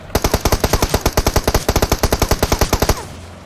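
Rapid, loud gunfire in the PUBG video game, a dense burst of about two dozen sharp shots at an even fast rhythm lasting roughly three seconds before cutting off.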